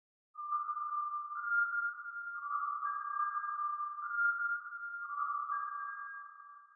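A sustained electronic tone with overlapping, smeared pitches that ring and blend into one another, as if washed in echo, continuing for several seconds without pause.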